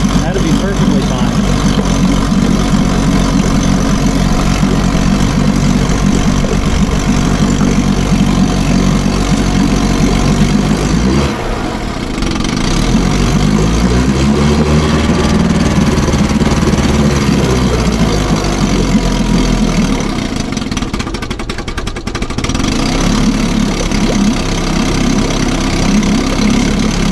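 A 1957 Sea King 5HP outboard motor running steadily in a test tank after sitting unused for 20 years, a loud continuous buzzing drone with brief dips in pitch as the throttle shifts.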